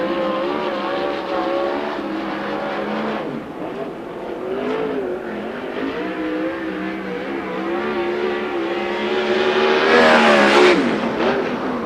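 A 410 sprint car roars around an oval track during qualifying at the USAC Oval Nationals, its engine note wavering through the turns and swelling loud as it passes near the end.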